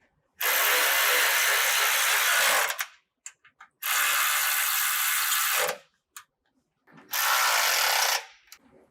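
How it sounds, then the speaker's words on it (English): A powered tool tightens the rear bolts and security bolts of an LED catalytic converter shield on a Toyota. There are three loud, sustained buzzing bursts of two to three seconds each, separated by short silences and faint clicks. "Now we're going to tighten our rear bolts and our security bolts."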